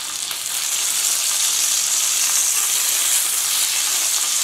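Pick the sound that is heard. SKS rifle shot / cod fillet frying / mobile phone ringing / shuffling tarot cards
cod fillet frying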